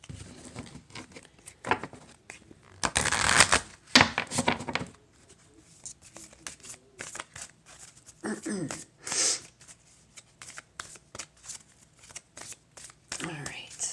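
A deck of tarot cards is shuffled close by in several bursts of riffling and soft flicking patter, with quiet pauses between them.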